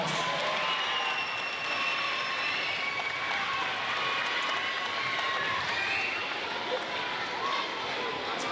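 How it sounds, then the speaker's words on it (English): An audience at a school awards ceremony claps for a class, a broad, even wash of applause that carries steadily through the whole stretch with no clear break. "One more big round of applause for Miss Odom's class."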